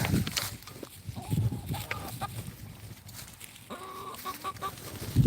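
Chickens cluck in a farmyard coop, with several short nasal calls scattered over a noisy background of rustling and handling sounds, near and moderately loud.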